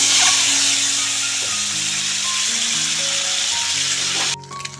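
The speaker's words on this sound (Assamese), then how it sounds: "মোৰ এই ডিমখিনি ফ্ৰাই হৈ গ'ল" Eggs frying in hot oil for an egg curry, a loud steady sizzling hiss that runs almost throughout with low tonal hum beneath it, then drops suddenly near the end.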